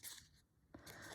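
Scissors trim a sheet of scrapbook paper for a junk journal in two short, close snips separated by a pause, ending in a sharp crisp cut.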